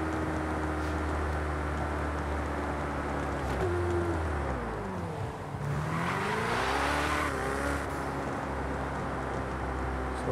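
Ferrari Portofino convertible driven over dirt in Forza Horizon 5, steady engine drone with a shifting pitch sweep midway and a brief tire skid, continuous and close with no talk.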